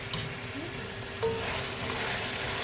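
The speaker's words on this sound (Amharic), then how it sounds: "አሁን ትጠበሳለች። ጥብስ ይደረጋል።" Onion, ginger and garlic fry for biryani in hot oil, giving a close, steady sizzling hiss throughout, with a brief stir or clink partway through and no talking.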